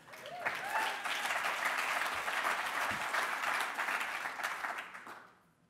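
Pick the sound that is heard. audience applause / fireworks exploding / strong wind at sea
audience applause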